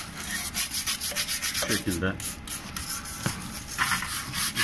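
A wire brush scrubs old paint off the exhaust of a Vespa 150 ET4 scooter in rapid, rhythmic rasping strokes, close and loud, while someone speaks briefly partway through.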